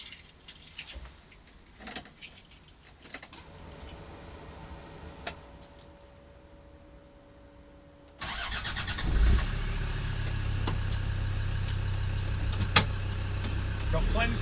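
A Land Rover tribute build's engine cranks and catches, firing up loudly and settling into a steady, deep idle heard close to the exhaust, after a stretch of quiet shuffling and keys.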